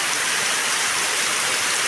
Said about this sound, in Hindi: देखो कितने नाले, खतरनाक पानी, भयंकरी पानी हो गया